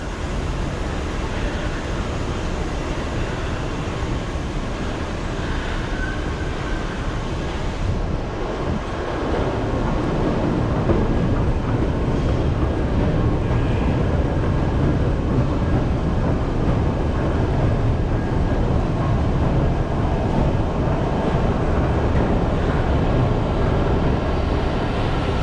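Loud, continuous rumble and hiss of a DC Metro train running through Gallery Place-Chinatown station, the roar building and staying steady after the first several seconds.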